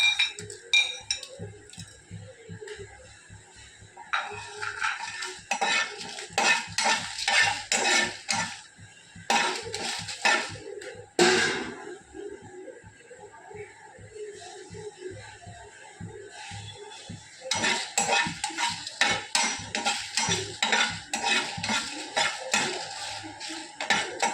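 About twenty dried red chillies dry-roast in a hot pan, tossed with a metal utensil in bursts of rapid clattering and scraping against the pan, separated by brief quieter pauses.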